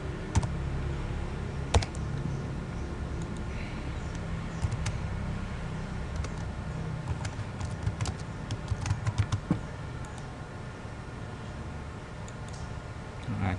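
Typing on a computer keyboard: irregular clicks and taps at close range, scattered throughout with a denser burst of keystrokes near the middle, over a quiet room hum.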